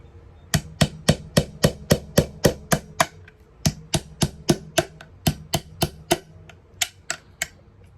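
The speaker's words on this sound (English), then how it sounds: "taking your hammer, and just tap some holes in the rim channel." A hammer drives a nail through the rim channel of a metal paint can, about twenty crisp, evenly paced taps in close succession with a brief pause midway, near and clear, with no voices.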